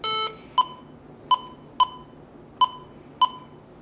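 A home alarm keypad beeps while the security system arms for exit, giving one longer tone followed by five short, evenly spaced beeps, clear and alone over a faint background hum.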